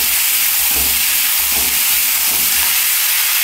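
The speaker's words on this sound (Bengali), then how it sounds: "আর বাকি যে রয়েছে ফুলকপিটাও সঙ্গে সঙ্গে বেশ সুন্দর ভাজা হয়ে যাচ্ছে।" Cauliflower, capsicum and other vegetables frying in a pan, a dense steady sizzle and hiss with a few soft stirring thumps at a slow, even pace, no talk.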